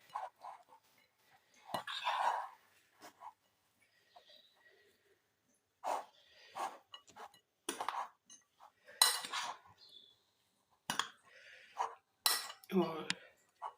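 Cabbage spring roll filling being stirred in a bowl, with a utensil giving scattered clinks and scrapes against the sides in short bursts separated by quiet pauses.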